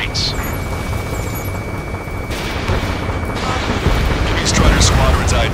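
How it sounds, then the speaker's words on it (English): Gunfire and jet roar over a city in Ace Combat 7, a dense rumbling wash of explosions and engine noise with bursts of shots and booms building toward the end, under a continuous whine. "Gunfire and a roar of jets echoing through the streets."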